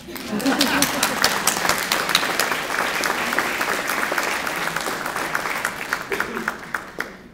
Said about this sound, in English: Would you applaud that thought?